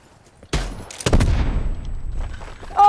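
Gunfire in Call of Duty: Black Ops 4 multiplayer: two sharp loud shots close together, each followed by a long decaying rumble, with a few fainter pops trailing after and no talking.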